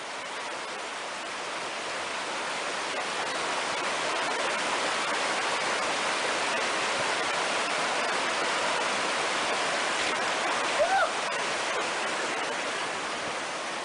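A creek flows beside a hiking trail in a canyon on the way to Landslide Lake, a steady broadband rush of water, moderately loud and unbroken throughout.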